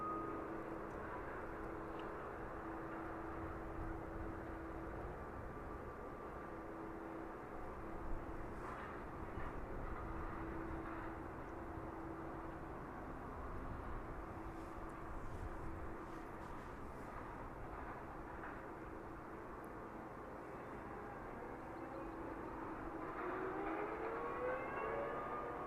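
Beechcraft King Air turboprop departing an airport runway bound for Belfast, heard as a steady distant engine hum with rising whine near the end, moderate in level with no voices.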